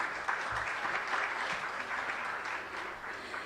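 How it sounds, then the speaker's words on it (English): An audience at an educators' PYP job-alike session claps in sustained, dense applause that fills the room, fairly distant and even throughout. "give a big round of applause to all of you"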